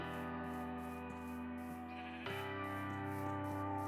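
A Minecraft sheep bleats over a sustained tonal background in the game, with a few short, faint bleats spaced through the passage and no talking.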